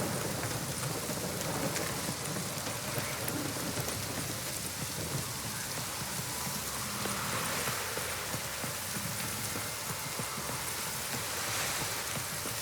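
Steady, dense rain pouring down without a break in the video game The Witcher 3, a constant hiss of drops hitting surfaces throughout, with no voices.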